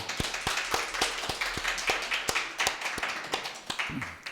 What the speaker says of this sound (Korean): 김명철 형제님 군대 잘 갔다 오도록 박수 한번 해주세요